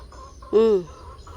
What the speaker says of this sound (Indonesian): Kemarin ayam satu itu yang belum ditangkap, ayam dilepaskan.